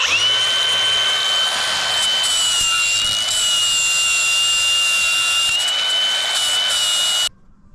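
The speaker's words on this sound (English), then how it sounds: "Now we'll take our flapper wheel and just round off our corners here." Flap wheel on a grinder rounding off metal corners during a 1967-72 Chevy C10 pickup build, a loud steady high-pitched whine held for about seven seconds before cutting off abruptly.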